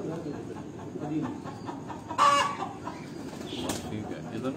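Breeder pigeons in Ustad Tahir Bhatti's loft in Kasur give off soft, scattered bird calls and a couple of short bursts of wing flapping over a low, busy background murmur.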